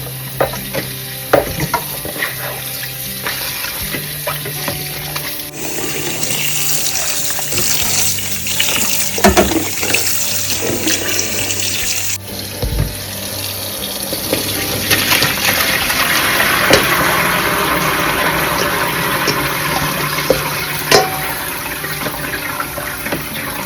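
Salted cabbage for vegetarian kimchi is rinsed under running water, with a loud continuous rush of water and splashing over a long stretch, plus the occasional clunk and handling sound from the bowl. No voices are heard.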